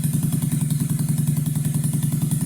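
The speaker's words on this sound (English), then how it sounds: "Here I'm just adjusting the idle and air screw a little bit. Turning up the idle a little bit." A motorcycle engine idles steadily up close during an idle and air screw adjustment, a loud, even, rapid putter with a slight mechanical clatter throughout.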